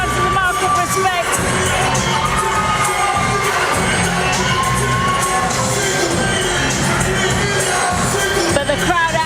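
A boxing crowd at York Hall in London cheers loudly and continuously, with shouts and whoops rising over a dense roar of many voices and a few sharp bangs.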